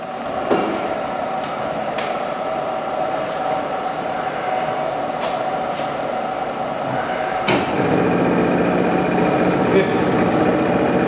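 An SIP vertical jig boring mill runs through its feed settings, a steady mechanical hum and whine with a few sharp clicks and a clunk as the feed changes, close and continuous.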